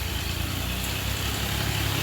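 A tractor ploughs a farm field, its engine running in a steady, loud, close drone with a low, even throb and no voices.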